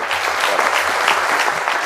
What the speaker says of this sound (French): Et on va applaudir ça